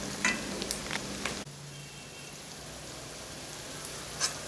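Onions fry in a pan for a tori (ridge gourd) vegetable dish, a soft, steady sizzle with a few brief clinks and a clear break partway through, continuing quietly with no talking.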